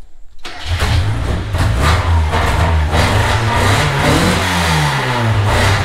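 Ford Focus diesel engine cranks and catches, then runs with a steady, rough rumble and a few revs up close; the car had lost its radiator after being driven through a mud hole, and a brief spoken word comes at the start.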